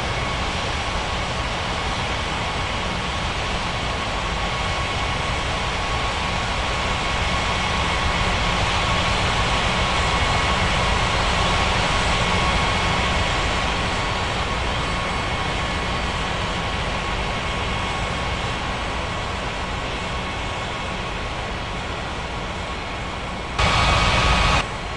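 Airliner landing on a runway at Paradise Island International in the air traffic control game Unmatched Air Traffic Control 2023. A steady, loud jet-engine roar holds throughout, then shifts briefly at the very end, with no voices.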